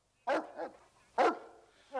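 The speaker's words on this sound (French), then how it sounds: "Revenez, Callahan, votre chien est sourd." A dog in a French-dubbed episode of the western series Bonanza barks three times, loud and close, the sharp barks spaced about a second apart against near silence.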